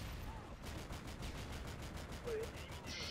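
Rapid automatic gunfire from the video game Call of Duty Modern Warfare 2, fired into a cave on the Afghan map, comes as a quick regular burst of evenly spaced shots at a moderate level over game ambience.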